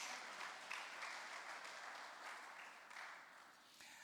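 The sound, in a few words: congregation clapping hands in church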